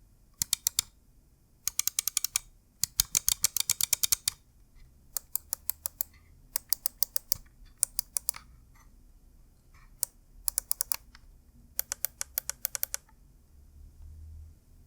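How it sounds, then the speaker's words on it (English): Razer Viper Ultimate wireless gaming mouse, Cyberpunk 2077 edition, having its buttons clicked in quick bursts of sharp, close clicks with short pauses between groups, no talking. "let's also do a quick sound test to hear how the buttons sound"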